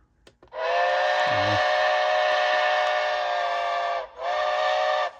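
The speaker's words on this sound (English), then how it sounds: "Oh, the whistle is definitely better on this model." Märklin 37082 DB BR 10 model steam locomotive sounds its whistle, a bright, steady tone held for over three seconds, briefly broken, then resumed in a shorter second blast, close and clear.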